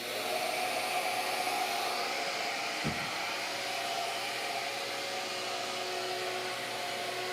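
A Shaper Origin handheld CNC router cutting mortises gives a steady, loud, continuous whine with a single brief thump partway through, and no voices are heard.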